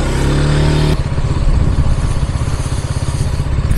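A KTM Duke 200 motorcycle idles loudly up close, then its engine is revved and it pulls away with a rough, pulsing single-cylinder roar that stays loud throughout.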